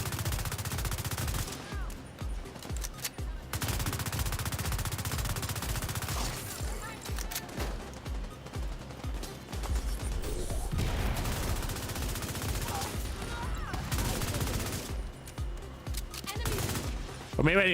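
Automatic gunfire rattles through a round of The Division 2, with rapid full-auto bursts fired repeatedly, some sustained and some broken into shorter strings, steady and fairly loud throughout.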